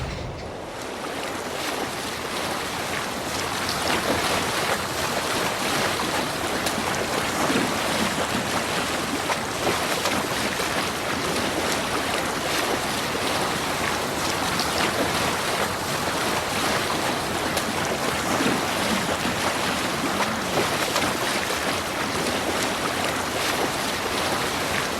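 Sailing ship crossing the sea in Assassin's Creed Valhalla, with steady wash of waves and wind rushing past for the whole stretch, dense and loud with no voices.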